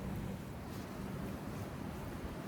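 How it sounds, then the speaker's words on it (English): Strong outdoor wind gusts buffet the microphone up in a tree stand on the last day of bow season, a steady loud rushing roar with low rumble throughout, no voices. "The wind gusts are pretty bad."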